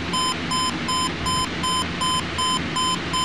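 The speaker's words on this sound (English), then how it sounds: "Here's your buzzer." Alarm buzzer of a Craig CR-4100U stereo receiver, a loud electronic beeping pulsed in a steady fast rhythm of short bursts, heard close and alone over a faint hiss.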